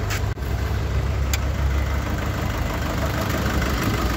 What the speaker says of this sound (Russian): Моторчик, блин, работает хорошенько так.